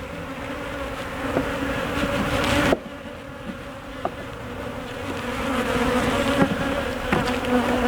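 Close, steady droning of many honey bees around an open beehive frame, with a brief knock partway through and the buzz swelling again afterward.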